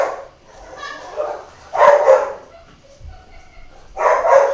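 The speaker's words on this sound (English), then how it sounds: "Oh my gosh, it's my dog." A household dog barks in bursts nearby, a few loud yaps spread across the moment, heard indoors with a faint voice in the background.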